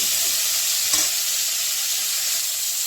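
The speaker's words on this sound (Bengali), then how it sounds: "এটাকে আমি এখন একটু ভেজে নিচ্ছি" Boiled cauliflower pieces fry in hot oil with turmeric, giving a steady close sizzle with a brief stir or scrape partway through.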